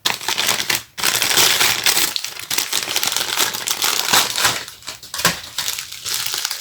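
Gift wrapping paper is crumpled and crinkled as a surprise parcel is unwrapped, a loud, close, continuous crackling with brief pauses and no talk.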